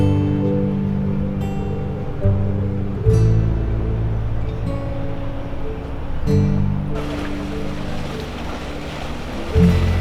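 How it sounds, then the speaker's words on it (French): Waves and wash from hydrofoil ferries speeding past an anchorage at the foot of the Vulcano volcano, heard as a steady rumbling water roar with surging swells, wind and low boat engine drone throughout. "D'ici, nous pouvons voir les hydroglisseurs sur leur foil arriver et partir à vive allure."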